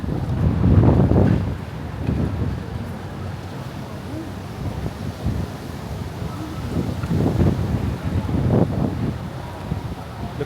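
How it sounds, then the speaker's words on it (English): Gusty wind roars against the microphone on a West Village street in New York City near Avenue of the Americas, in steady buffeting rumbles that swell and ease throughout. "It's a little windy."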